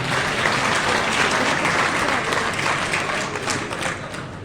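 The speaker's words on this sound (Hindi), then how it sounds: "इन बेटियों के लिए एक बार फिर से ताली बजाइए।" Audience at a Scheduled Caste khap mahapanchayat in Karnal's Guru Ravidas temple breaks into dense, sustained clapping that holds steady and close for several seconds, a faint voice now and then beneath it.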